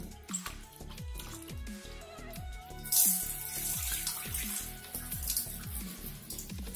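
Hot water is poured and splashed over goat trotters in a container while they are washed by hand before cooking, giving close, irregular gurgles and sloshing splashes with a brief louder splash midway.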